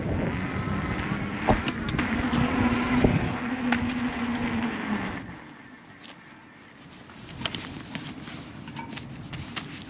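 A moped engine revs hard and steadily during a wheelie attempt, then cuts out abruptly, leaving quieter rustling and brief knocks.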